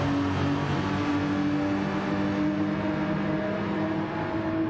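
Porsche race car in a Gran Turismo style Gr.3 race at Goodwood, its engine droning at a steady, high, sustained pitch, loud and close and alone throughout.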